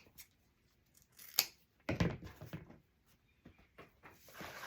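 Scissors snipping the ends of wreath ribbon, a few close, crisp cuts with soft rustling of the fabric in between, in a quiet room.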